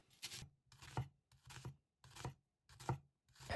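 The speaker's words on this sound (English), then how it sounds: "Firstly, make vertical cuts" A knife makes vertical cuts through an onion on a chopping board: six evenly spaced, quiet slicing strokes, each a short rasping crunch ending in a soft tap on the board, with silence in between.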